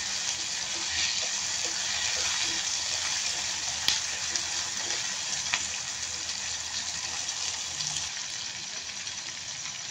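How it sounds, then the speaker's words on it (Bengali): Dried fish fries in hot oil with garlic, filling the scene with a dense, steady sizzle and occasional faint pops and clicks as it is stirred. "এরপরে দেবো আমি শুটকিগুলো, তেলের ভিতরে ভেজে নেবো"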